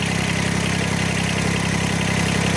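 A Kubota BX25D compact tractor's engine running steadily at a fixed speed, a loud, close, even drone with a low rhythmic pulse and no voices over it.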